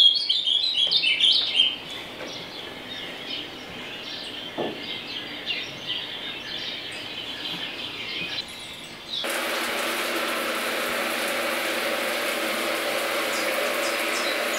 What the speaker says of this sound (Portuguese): ouvindo sons de passarinho